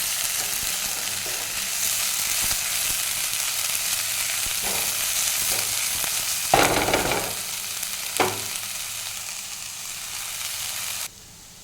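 Chopped green chillies sizzle and fry in a pan with onion, a steady broadband hiss running throughout, broken by a few louder bursts as they are stirred, then cutting off abruptly near the end.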